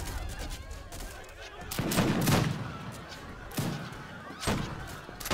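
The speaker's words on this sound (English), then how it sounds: "Oh my gosh, look at the cannons." Cannons and bombards fire in an Age of Empires III multiplayer battle, booming in repeated bursts and thuds at irregular intervals over a busy background of battle noise.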